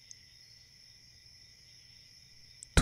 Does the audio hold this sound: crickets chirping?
yes